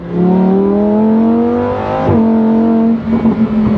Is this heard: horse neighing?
no